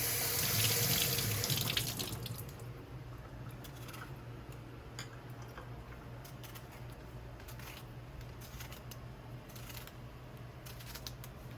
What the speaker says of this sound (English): Wash my tomato.